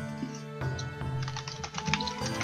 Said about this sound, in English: I'm still merrily typing away.